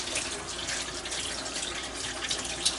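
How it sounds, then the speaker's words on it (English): Running tap water splashes steadily over hands being washed at a kitchen sink, a continuous close hiss and patter with no talking. "Okay, wash my hands twice."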